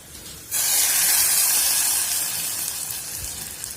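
Hot garlic tempering poured into carrot kootu bursts into a sudden loud hiss and sizzle that holds steadily, then slowly fades over a few seconds, close up with no talking.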